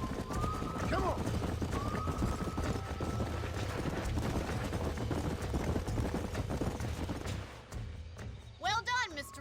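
Horse hooves galloping in Red Dead Redemption, a rapid, continuous clip-clop under talking voices, with rider calls and a brief whinny before the hoofbeats slow and fade near the end.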